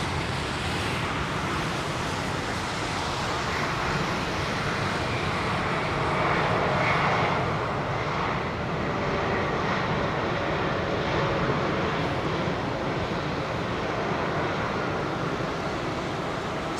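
Aeromexico and Avianca airliners arriving at London Heathrow in wet weather, heard as a steady, broad jet roar with rain and spray hiss, swelling slightly midway and holding loud throughout with no voices.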